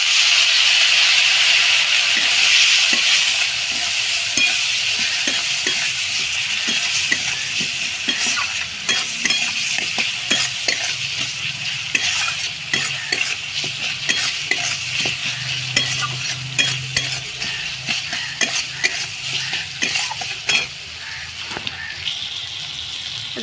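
Turmeric and cumin powder sizzle and fry in oil in a pan, with steady scraping and stirring strokes that grow more rhythmic and clattery over time, close and fairly loud, and no talking.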